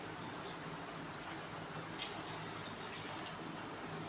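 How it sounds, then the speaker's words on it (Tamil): More water streams into a pan of Maggi noodle masala as a steady, continuous splashing pour. It sounds close and even throughout, with no voices. "இன்னும் கொஞ்சம் தண்ணி ஊற்றிக்கலாம்"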